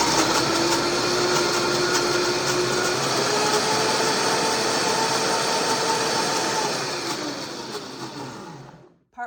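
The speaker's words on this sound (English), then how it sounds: "the blending will make it creamy, but it'll also aerate it so that we get some really nice consistency for our lotion" A kitchen blender whirs steadily while blending a homemade comfrey body cream, its loud motor drone holding for about eight seconds with a slightly shifting pitch before winding down and cutting off.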